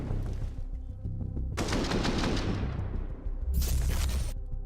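Bursts of rifle fire ring out in a Counter-Strike match, with rapid automatic volleys in two dense clusters separated by a brief pause, loud and close, with no voices.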